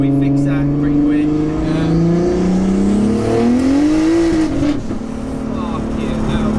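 A 900bhp 3.2-litre turbo Audi A3 accelerating hard: loud engine pitch climbing through the gears with a shift dip and tire noise, heard from close by, while a voice speaks over it.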